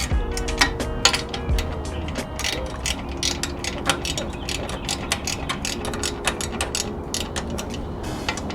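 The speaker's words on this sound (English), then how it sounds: "Alright, now we can tighten up the header. These are just 12mm bolts." A ratchet tightens 12mm header bolts on a Yamaha YFZ450R exhaust, a fast, steady series of sharp clicks repeating close up across the whole stretch, with faint creaks under it and no talk.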